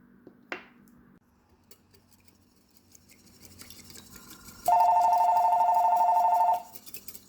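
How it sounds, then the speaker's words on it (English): A phone rings in a kitchen where a hair detangler mixture is being whisked: one steady electronic ring tone that lasts about two seconds after a sharp clink and some faint clatter, loud and close. "And my phone rings."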